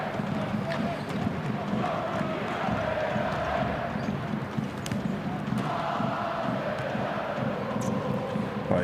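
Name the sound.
basketball arena crowd cheering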